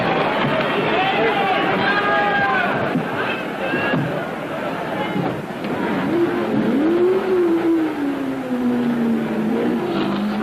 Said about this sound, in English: Ronnie Bucknam, driving the number 57 Ford Mark II, leads the pack off the starting grid